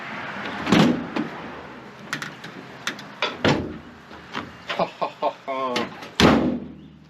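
Rear door of a Chevy Express van on a repaired hinge, swinging and shutting with several solid thumps and clunks, close by, amid handling knocks, with people talking in between.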